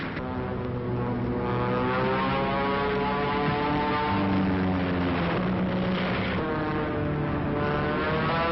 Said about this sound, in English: And here come 2 Thunderbolts.